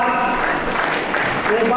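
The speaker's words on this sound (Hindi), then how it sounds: "सब लोग एक बार जोरदार तालियां बजा दीजिए।" Crowd at an award ceremony of a national convention in Surat applauding an honoree, a dense continuous roar of clapping filling the space, with voices underneath.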